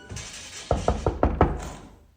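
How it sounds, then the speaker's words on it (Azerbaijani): Five sharp knocks on a door in a quick, fairly even series, close and loud, with no talk over them. "Qapı döyülür."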